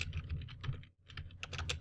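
Quick bursts of computer keyboard typing enter a terminal command, close and crisp, with a brief pause in the middle before the keys resume.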